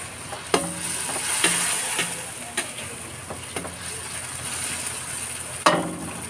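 Pork and chicken pieces with vegetables sizzle in a pan for apritada while a utensil stirs and scrapes, giving a steady frying hiss broken by several sharp clinks and scrapes.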